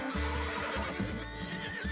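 A horse in a PS4 video game gives a single close, drawn-out neigh with a shaky whinny, mixed with faint hoof sounds. No one speaks.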